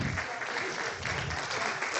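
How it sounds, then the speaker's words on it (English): Audience applause after a talk at an academic plenary session, a steady, dense wash of clapping that holds evenly for the full two seconds with a faint voice underneath. "if you could applaud for your appreciation for that talk"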